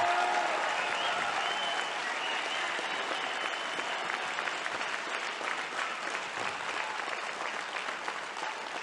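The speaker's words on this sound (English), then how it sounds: "I appreciate that round of applause." A large crowd at a CPAC political conference gives a sustained round of applause, a dense, even wash of clapping that holds steady for several seconds with faint crowd noise underneath.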